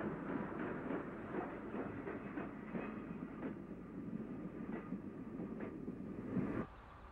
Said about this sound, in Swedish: Tåg med lok 11 avgår söderut.